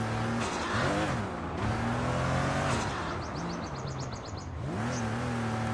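A car in Sleeping Dogs revs hard and holds a steady engine drone, the pitch dipping and climbing as the handbrake turn swings it around, with a faint skid near the middle.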